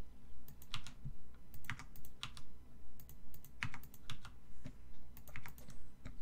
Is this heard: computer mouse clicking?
yes